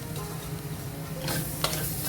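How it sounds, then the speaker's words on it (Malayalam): Squeezed soya chunks sautéing with spices in an oiled pan, continuous close sizzle with scraping stir strokes and a sharp clack of the spoon near the end, no talking. "ഇതെല്ലാം കൂടെ ചെറുതായിട്ടൊന്ന് വഴറ്റുക."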